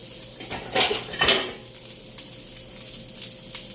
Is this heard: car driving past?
no